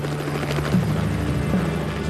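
A Little Bird helicopter flies overhead at night during a rescue in Panama, its rotor chop and engine roar forming a loud, continuous throb with rhythmic blade pulses.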